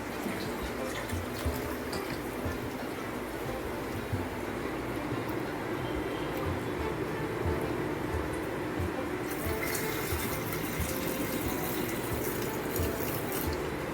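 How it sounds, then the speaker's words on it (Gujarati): Husked urad dal being washed in two or three changes of water, a continuous close splashing and swishing of water that runs unbroken, with no talk over it. "આ અડદની દાળ છે એટલે બે ત્રણ પાણીથી ધોઈ અને જે ફોતરા છે એ કાઢી લેવાના છે"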